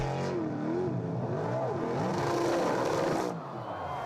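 Sprint boat engine fitted with 180-degree headers, a loud sustained racing drone that rises and falls in pitch as the throttle swings, heard alone and fairly close before easing slightly at the end.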